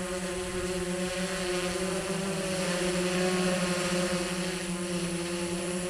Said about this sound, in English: Helicopter's in the air.